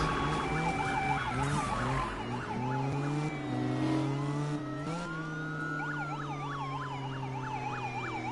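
Police sirens in the Need for Speed racing game, several wailing and yelping at once and overlapping steadily throughout, with car engine drone beneath and no talking.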